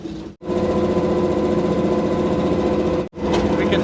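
Engine of a 1953 Chevy dump truck running with the drive shaft spinning fast, a loud, steady mechanical drone and rattle, cutting out briefly twice before resuming.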